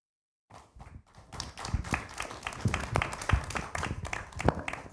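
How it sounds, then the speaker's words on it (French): Audience members at a study-day round-table applaud spontaneously. Scattered claps start after a brief silence and build into uneven, fairly close applause. "c'est des applaudissements spontanés"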